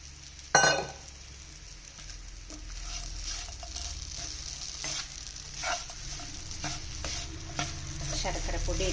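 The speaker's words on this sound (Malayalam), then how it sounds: "ശർക്കരപ്പൊടി ഇട്ട് നമുക്കൊന്ന് ഇളക്കിയെടുക്കാം." A pan of snack mixture is stirred after jaggery powder goes in, for a Kerala-style sweet snack. A sharp clatter comes first, then steady scraping and a soft sizzle run throughout with no talk.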